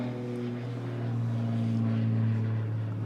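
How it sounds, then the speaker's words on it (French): Airplane passing overhead above an abandoned military vehicle site, a steady low droning hum that swells slightly and sustains throughout, heard at a distance with no voices. "il y a un avion qui passe au-dessus"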